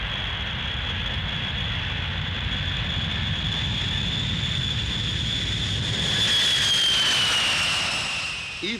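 Elderly B-52 bomber jet engines roar steadily and loudly, swelling near the end with a rising whine as an aircraft passes close by.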